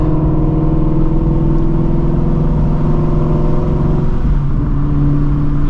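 Shelby GT350 cruising on the road, a steady, loud engine drone with a low hum that shifts pitch slightly near the end, continuous and close with no talking.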